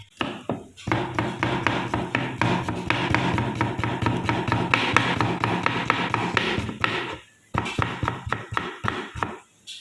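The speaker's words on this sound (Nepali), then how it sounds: "बदाम यसलाई कुट्नु त सबै यो यतिलाई कुट्नु" Rapid, steady pounding thuds, like a pestle crushing peanuts, repeat for several seconds, pause briefly, then resume.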